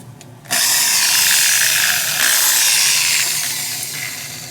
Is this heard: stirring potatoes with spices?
no